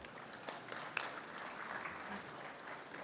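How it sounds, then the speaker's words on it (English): Audience applause welcoming panelists at a small-business defense conference, a brief, fairly faint burst of clapping from a modest crowd. "If you could join me in a round of applause welcoming our panelists."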